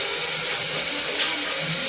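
Water pours steadily into a cooking pot of rice, a soft continuous splashing trickle heard up close with no voices.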